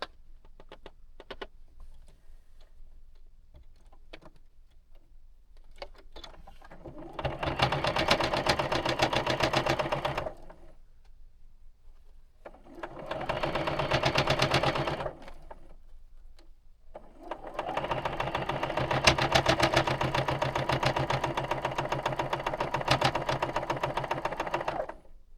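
A sewing machine stitching quilt block seams runs in three steady, fairly loud bursts separated by quieter gaps of handling and small clicks.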